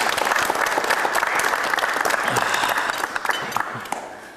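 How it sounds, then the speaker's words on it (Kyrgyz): A studio audience on a TV matchmaking show applauds two young participants, a dense, loud, steady burst of clapping that holds throughout and tapers slightly toward the end. "Биздин 2 жашка катуураак кол чаап коелу"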